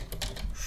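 Quick keystrokes on a computer keyboard, a few close, light clicks in a brief burst while a search term is typed.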